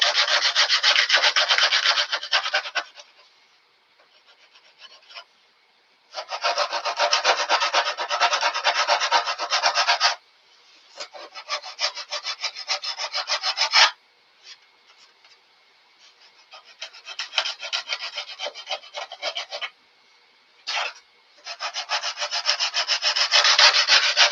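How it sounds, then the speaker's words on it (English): Light sanding of wood in several bursts, a steady raspy rubbing that starts and stops with short pauses between strokes, close and fairly loud. "You know, a little light sanding."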